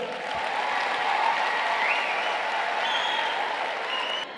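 Audience applause at a political gathering of the National Rally of Independents party in Morocco, a loud sustained crowd clapping that holds steady throughout with faint whistles over it.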